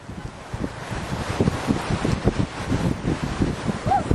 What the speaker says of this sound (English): It's pretty windy out here, but we're on a little walkway by the water.